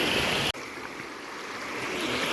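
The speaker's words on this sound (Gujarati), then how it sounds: "અમારા ગામમાં જે રોડ માથેથી પાણી જાય છે આ વરસાદનું" Rainwater runs over a village road after heavy rain, a steady rushing stream of flowing water close by, with a brief dropout early on and no voices.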